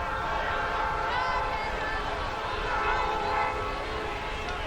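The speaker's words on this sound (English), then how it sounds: "Train goes roaring by." A train roars past near a rugby league ground in 1985, a continuous loud rumble with sustained horn-like tones running throughout.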